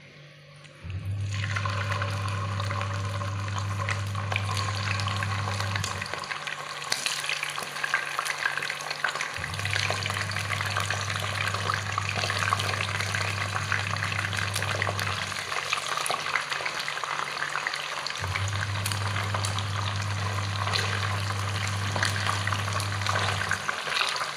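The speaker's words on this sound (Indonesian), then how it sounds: "Kita goreng ikan layangnya ya atau ikan dencisnya." Scad fish frying in hot oil for sambal, a loud continuous crackle and hiss that fills the whole stretch, with a low droning hum switching on and off three times underneath.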